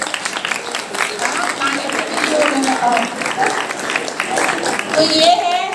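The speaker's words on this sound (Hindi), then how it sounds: "तो ताली तो बजाओ।" An audience claps together at a peace march and anti-addiction campaign gathering, a steady wash of applause that runs throughout, with a voice speaking over it.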